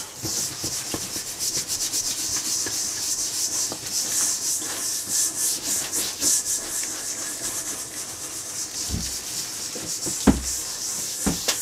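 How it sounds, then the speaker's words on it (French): Steady, rapid brushing scrubs across a leather bag while cleaning it, continuous circular strokes with light pressure, a soft hissy rubbing with a few sharper knocks near the end. "passer la brosse d'une façon rapide et toujours en rotation autant que possible"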